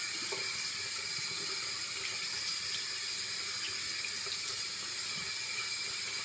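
Water runs steadily from a bathroom tap into a sink while someone wets their face before shaving, giving a close, continuous splashing hiss with no talking.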